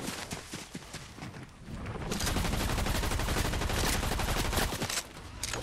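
Rapid bursts from a snowball launcher in the Fortnite video game, firing in dense, loud repeated volleys that intensify midway and continue almost without pause.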